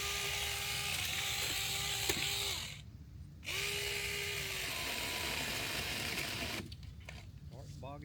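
A battery-powered trimmer's motor whines steadily, cuts out briefly, then revs again and starts to labor as the battery runs low. A person talks over it outdoors.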